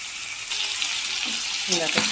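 Chicken pieces fry in hot oil with a steady bright sizzle, punctuated near the end by a few stirring scrapes, close and moderately loud.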